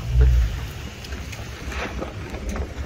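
Gusty wind buffets the microphone outdoors in a car park at the Nürburgring on a cold day, a low rumbling roar with a strong gust near the start, no speech.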